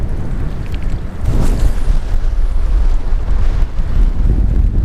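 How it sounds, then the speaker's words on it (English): Strong wind buffets the microphone outdoors during a bass fishing outing, a continuous loud roar with gusting surges and a faint watery wash underneath. "Wind's just blowing my line right over."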